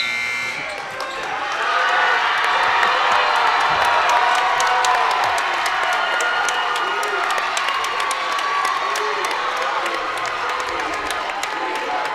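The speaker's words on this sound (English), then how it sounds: "You heard the ovation, and then you heard the D Hill that the student body gave" College basketball arena crowd at a game against Syracuse giving a player a loud, sustained ovation, with cheering and clapping swelling and holding near full volume, plus occasional sharp bounces and shouts.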